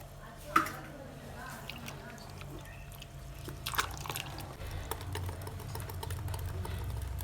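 Wet squishing and scraping while wheat flour dosa batter with water and salt is stirred by hand in a bowl, a steady close churn that grows busier toward the end.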